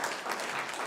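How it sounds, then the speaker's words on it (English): A room full of people claps steadily in the Redmond City Council chamber during a business meeting. The dense, even clapping stays close and fills the whole brief moment, with no voices over it. "I appreciate the applause"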